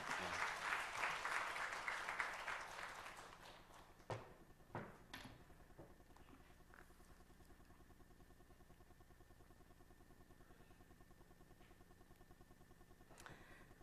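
Congregation applause in a Korean church in Busan, fairly quiet clapping for about four seconds that dies away, followed by a few knocks and a low steady hum in a near-silent room.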